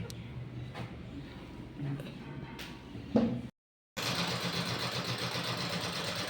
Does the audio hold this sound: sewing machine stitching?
yes